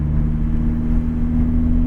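A Lamborghini on a race track gives a steady, loud mid-pitched engine drone with strong harmonic tones, held evenly throughout with no voices.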